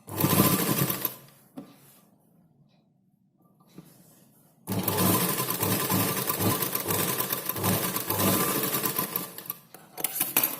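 An electric sewing machine stitches tucks on a blouse in close, loud rapid whirring runs, a short burst, a quiet pause with faint handling noises, then a long steady stitching run.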